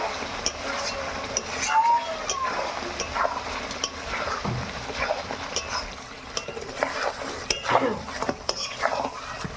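Mutton is slow-fried for kosha in a pan, with a spatula scraping and clinking against the metal over a low sizzle in irregular, close strokes, no speech.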